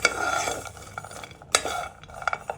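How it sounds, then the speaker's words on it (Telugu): Protein powder ingredients dry-roasted in a pan over a low flame, with a spoon scraping and stirring, a light rustling sizzle and a couple of sharp clinks against the pan. "ఇది సిమ్లోనే పెట్టి వేపుకోవాలి"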